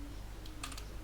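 Typing code on a computer keyboard, a quick short cluster of a few crisp key clicks near the end, over a quiet low hum.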